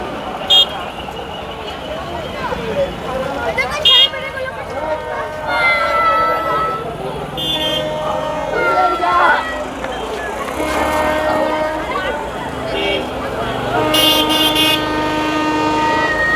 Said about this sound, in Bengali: প্রথমবার ট্রেন ঢুকছে লোকাল ট্রেন আমাদের আমঘাটা স্টেশনে